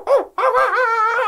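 A hyena gives a loud, close laughing whoop, a short yelp followed by a sustained wavering cackle, sounding boxed in as if inside a tumble dryer.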